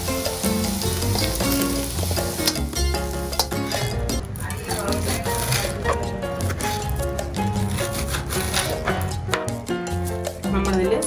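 Food fries in sunflower oil in a pan for a Chinese-style idli dish, a continuous dense sizzle with stirring and utensil clinks, loud and close throughout.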